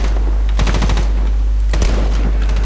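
Sniper rifle gunfire in the video game Medal of Honor (2010), two loud sharp shot bursts about a second apart over a constant low rumble of battle.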